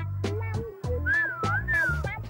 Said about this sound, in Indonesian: Bagus gak siulan saya?